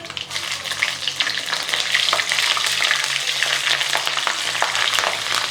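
Green chillies frying in oil with tempering spices such as mustard seeds, urad dal, chana dal, cumin and curry leaves, giving a close, steady, crackling sizzle with occasional stirring and no voices.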